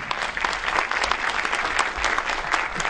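Audience at a kindergarten year-end show applauds steadily, a dense continuous clapping from a nearby crowd that fills the whole moment without pause.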